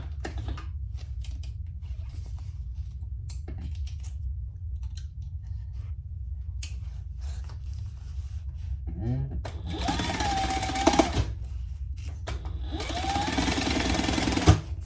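A sewing machine stitches down the sides of a sewn piece in two short bursts of rapid mechanical chatter, following a quiet stretch of handling and faint background hum.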